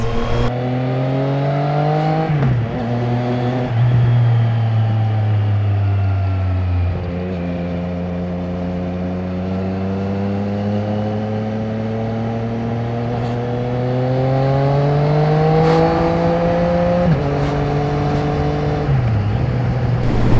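A 2020 Triumph Street Triple RS three-cylinder motorcycle engine drones steadily while riding, its pitch rising and falling through gear shifts with brief dips between, loud and close throughout with no talk.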